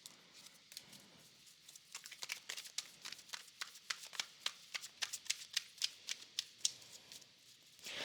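Tarot cards are shuffled in a rapid series of crisp, riffling flicks close to the listener, fairly soft and steady for several seconds.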